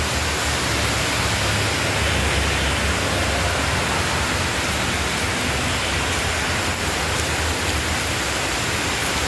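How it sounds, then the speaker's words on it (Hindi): Heavy rain falls at night beside a highway, a loud, steady broadband downpour that holds unbroken from start to finish with no voices over it. "आप देख सकते हो कितना सारा बारिश"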